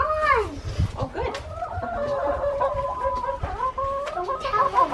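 Homestead chickens clucking up close, a lively run of rising and falling clucks and squawks, with a brief crowing note, continuing loudly for several seconds.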